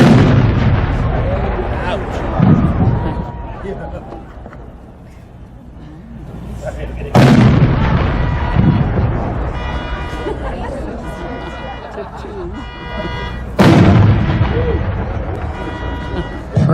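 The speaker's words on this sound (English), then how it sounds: "it's a 5-inch shell. So how high is that going to go? 500 feet." Three 5-inch fireworks shells at a winter club showcase each go off with a heavy thump and a loud booming burst, followed by crackling and a long rumbling decay that repeats at roughly six-second intervals. People talk in between.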